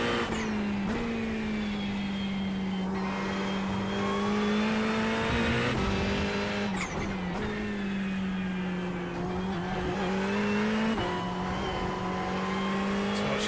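Ferrari GT3 Challenge race car engine at Virginia International Raceway, a loud steady in-car drone that rises and falls through shifts and throttle lifts across the lap, with no voices.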